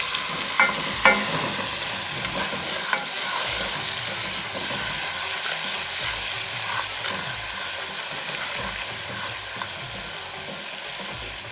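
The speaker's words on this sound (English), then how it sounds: "We have to fry it a little bit." Spiced masala of coriander powder, red chili powder and salt frying in a pan for palak saag gosht, a continuous close sizzle with scattered spoon-stirring clinks and scrapes, no talk.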